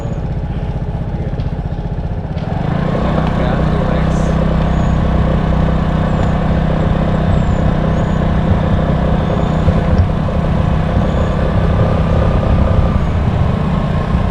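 Vespa automatic scooter speeding up, its engine rising to a rough, steady loud drone after a quieter start, with a faint voice briefly in the background.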